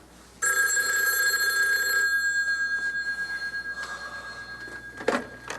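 A telephone rings with a bright, sustained electronic bell tone for a couple of seconds. The ring fades into a softer, warbling trail, followed by a faint click near the end, with no talk.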